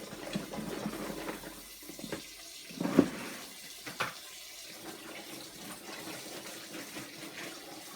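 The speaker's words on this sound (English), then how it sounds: "It's time to finish washing them up" Habanero chillies rinsed under a running tap, a steady soft stream of water splashing into a sink with occasional louder clunks and splashes as the peppers are handled.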